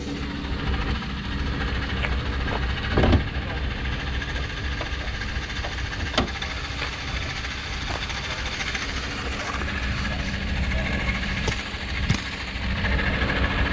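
The engine of a 2009 Ford F150 XLT crew cab pickup idles steadily nearby, a continuous low rumble with occasional faint knocks and clicks over fourteen seconds.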